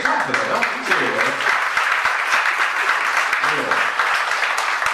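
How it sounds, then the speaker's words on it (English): Steady applause from a comedy club audience at a comedy competition, dense and sustained for several seconds, with a voice talking over the clapping. "clap for that."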